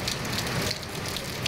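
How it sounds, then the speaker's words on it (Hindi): Heavy rain driven by strong winds in Narowal, a steady, dense hiss of downpour that fills the whole moment at close range, with no voices. "नारोवाल में भी तेज हवाओं के साथ मूसलाधार बारिश हुई"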